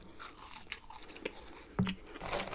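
Warm McDonald's fries with frit sauce crunched while eating in the Netherlands, a few close, brief bites and chews that stand out over a quiet background.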